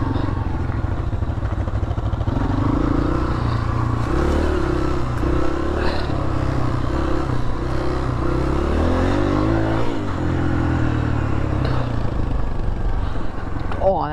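A dirt bike engine revs hard and continuously while riding over rocky, glassy ground, the pitch rising and falling with throttle blips and a clattering of loose debris, loud and close throughout.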